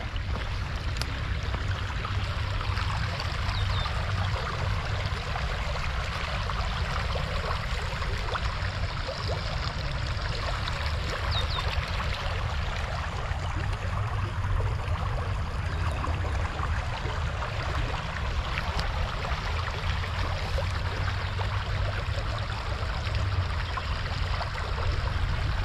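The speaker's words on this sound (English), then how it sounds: "It's always so relaxing to hear water." Continuous flowing water murmurs and rushes nearby at an even level, a steady stream sound with no voices over it.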